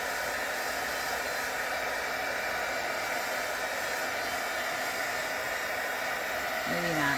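Heat tool blowing steadily and loudly on thick embossing powder during a faux-tintype craft, a continuous airy roar that holds even throughout.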